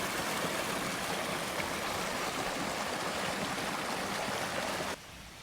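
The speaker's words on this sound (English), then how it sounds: "This is Diamond Creek along Woodtown Road West." Diamond Creek flows alongside Woodtown Road West in a steady, full rushing wash of moving water, then drops sharply quieter near the end.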